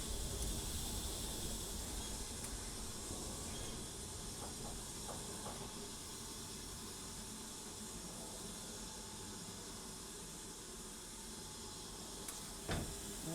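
Steam locomotive releasing a steady, broad hiss as its steam brake goes on, a continuous rushing sound at moderate level with a few faint clanks, no voices.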